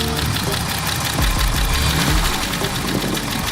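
An inline six car engine with a modified exhaust or muffler idles close by with a rough, loud, steady rumble and a lumpy rhythmic throb.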